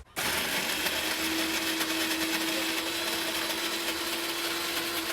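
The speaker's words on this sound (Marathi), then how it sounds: "त्यांनाही आपण मिक्सरला मारणार आहोत" A mixer grinder grinding crab legs whirs loudly and steadily, starting abruptly and running without pause, a harsh grinding drone with a strong motor hum.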